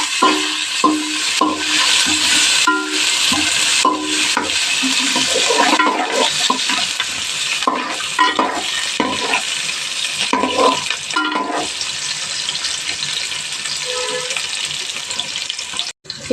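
Chopped onions sautéing in hot oil in a pan for a Madurai-style fish curry, giving a steady close sizzle broken by bursts of stirring and scraping throughout.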